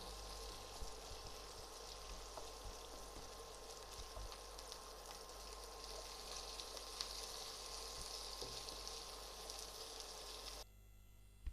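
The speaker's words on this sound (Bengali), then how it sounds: "এটি আমি হাই ফ্লেমে 30 থেকে 40 সেকেন্ড ফ্রাই করে নেব।" Diamond-shaped green chillies frying on high flame give a steady, loud, continuous sizzle with faint crackles throughout, cutting off abruptly near the end.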